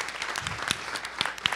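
An audience claps at a film festival Q&A after a screening, a short burst of scattered hand claps with individual sharp slaps standing out over a softer, thin patter.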